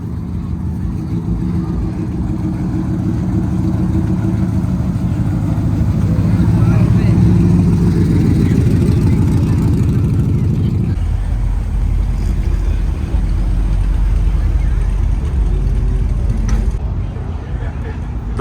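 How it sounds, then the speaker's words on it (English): At an outdoor Cars and Coffee show in Palm Beach, a Honda ACTY three-cylinder mini truck from Japan runs with a steady low engine drone that swells briefly, then drops to a deeper rumble about halfway through, with crowd noise around it. "The beloved Honda ACTY 3-cylinder truck from Japan."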